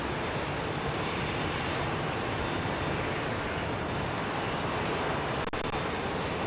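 A Boeing 747 departing an airport: a steady, loud roar of jet engines fills the air continuously, a broad rushing drone with no talking.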